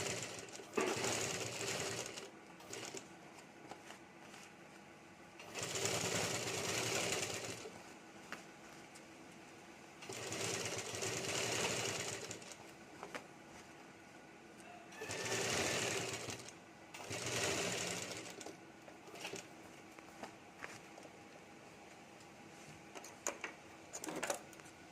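A normal home sewing machine stitches piping around the round base of a potli bag, running in several bursts of rapid mechanical whirring and clatter separated by quiet pauses with small handling clicks.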